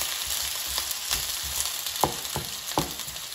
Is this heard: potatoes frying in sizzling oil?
yes